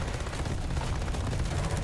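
A machine gun fires in War Thunder in a fast, continuous volley of sharp, loud shots with no pause over the short stretch. The gunfire runs alone, without speech.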